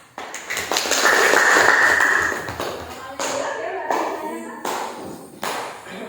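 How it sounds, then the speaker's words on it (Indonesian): A classroom claps in applause for a student group after their presentation, a dense burst of handclaps that swells, then tapers into scattered shorter rounds. "ya kita kasih aplaus dulu untuk kelompok 1 mempresentasikan hasil diskusinya"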